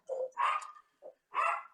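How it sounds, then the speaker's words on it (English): A dog barks in another room, a few muffled yelps and whines in quick succession, fairly faint and mid-distance, with no talk over them. "We got Cubby barking in the next room"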